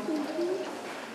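Bearded barbets calling, a pair of short, low hollow coos rising slightly, fairly close and clear over soft background noise.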